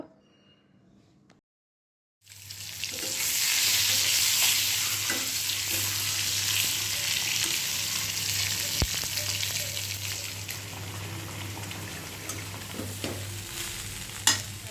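Egg bhuna frying in a pan, a steady loud sizzle with occasional stirring scrapes that starts abruptly after a short near-silent opening and continues unbroken, with no talking.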